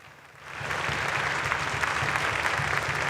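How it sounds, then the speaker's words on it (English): Applause fills a legislative chamber during a state House floor session, swelling from quiet within half a second into steady, dense clapping from many hands that carries on to the end, with no talking over it. "I didn't want to interrupt if there was applause for Representative Hansen on the tree."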